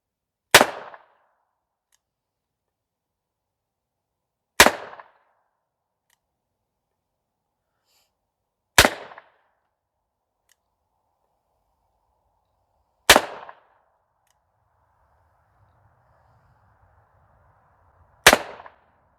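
Five sharp double-action revolver shots from a Diamondback Sidekick fired at a 10-yard target, each a loud crack with a short decay, spaced about four seconds apart against near silence.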